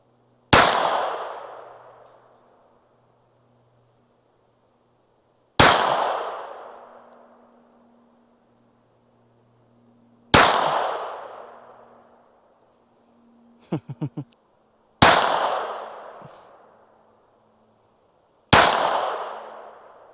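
Five sharp .25 ACP pistol shots striking steel plates, each a loud crack with a ringing metallic decay, spaced several seconds apart, with a brief cluster of small clanks between the third and fourth.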